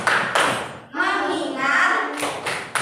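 Classroom focus clapping routine in an Indonesian-language lesson: sharp bursts of group claps break up a chanted call-and-response, with voices filling the gaps between claps.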